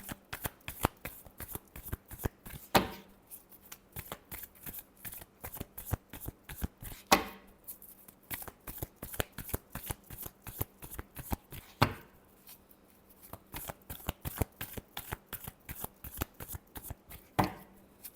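Tarot cards being shuffled by hand, a steady run of crisp riffling flicks and slaps, close and loud, with a few heavier bridging bursts between the riffles.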